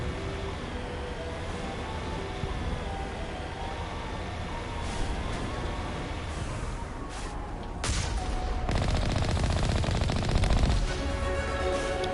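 Gunfire in the video game Mass Effect, bursts of rapid shots over a constant low rumble, growing denser and louder in the second half.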